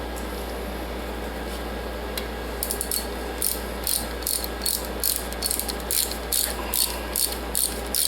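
A ratchet wrench snugs the bolts on the pistons of a 327 engine, giving a series of quick light clicks in short bursts over a steady hum of background noise.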